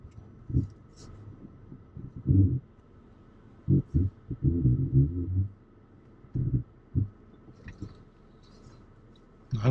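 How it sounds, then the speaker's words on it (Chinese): A rusty hitch on a towed RV trailer creaking while the rig moves, with irregular short scraping creaks and clunks in separate bursts over quiet road hum. "刚出来，突然发现后边钩子响的厉害"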